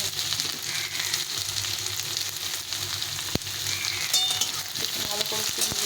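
Potatoes fry in a pan with onion and garlic for khichuri, a steady close sizzle with occasional stirring scrapes and a sharp clink midway, no voices.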